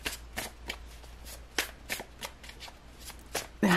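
Tarot cards are shuffled and drawn by hand during a reading, giving a run of quick, close papery riffles and flicks at an irregular pace, with no talking.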